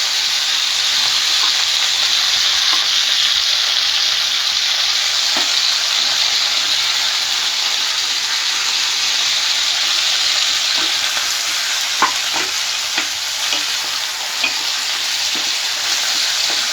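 Garlic cloves, green chillies and cashews stir-frying in hot oil, a loud steady sizzle with occasional scraping stirs, close up and continuous with no talk.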